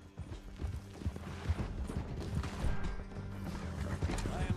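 Horses gallop in Red Dead Redemption 2, their hooves clip-clopping in a quick, steady beat with creaking tack and an occasional whinny, continuous and fairly close.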